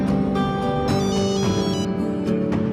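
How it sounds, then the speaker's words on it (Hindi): A mobile phone rings with a repeating melodic ringtone, heard close and moderately loud over a faint background. "उसके फोन की घंटी बजने लगी"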